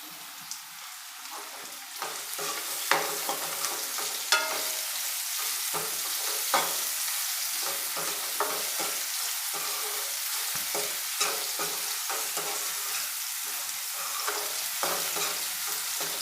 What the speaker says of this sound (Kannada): ಬೆಳ್ಳುಳ್ಳಿ ಅರ್ಧ ಫ್ರೈ ಆಗಿದೆ ಸ್ನೇಹಿತರೆ ನಾನೀಗ ಒಂದು ಕ್ಯಾರೆಟ್ನ ಸಣ್ಣ ಸಣ್ಣದಾಗಿ ಕಟ್ ಮಾಡಿದ್ದೀನಿ ಒಂದು ಕ್ಯಾರೆಟ್ ಸೇರಿಸ್ತಾ ಇದ್ದೀನಿ